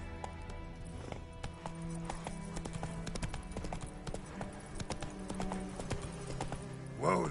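Roach the horse trotting in The Witcher 3, hooves striking in a steady, fast clip-clop rhythm close by, ending with a short neigh.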